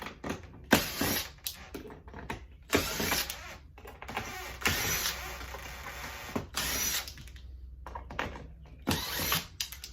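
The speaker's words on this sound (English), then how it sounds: "let's get started removing these screws." Power driver backing screws out of a window track during a replacement window install: short repeated bursts of whirring motor with ratcheting clicks, close and fairly quiet, separated by brief pauses.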